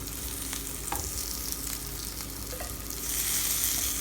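Garlic sizzles and fries in a pan, a steady crackling hiss with occasional soft stirring clicks, close and alone, growing slightly louder toward the end.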